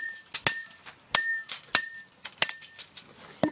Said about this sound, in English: And then just find the bottom